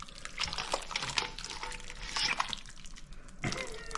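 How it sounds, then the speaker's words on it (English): Thick crab gravy pours over pasta in a kitchen, a wet, splattering, gurgling stream with soft drips, close and moderately loud. "Now we'll just pour this right over the top."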